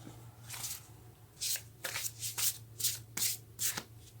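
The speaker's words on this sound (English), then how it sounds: "And now we will take a card" Tarot cards being shuffled by hand, a series of quick papery riffles and slaps in short bursts over a low steady hum.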